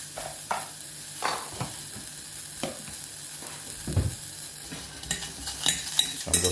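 A spoon presses and smashes blueberries in a pot of tea spiced with nutmeg and cinnamon, giving soft, irregular squelches and occasional clinks against the pot, close and quiet with no talking.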